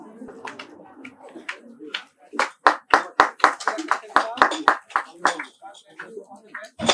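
Sharp, distinct hand claps from a group at a yoga academy gathering, loud and close, starting scattered and quickening into an uneven run of individual claps, with birdlike cooing and voices in the background.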